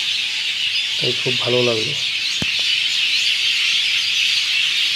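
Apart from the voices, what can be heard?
birds chirping on the Brahmaputra river bank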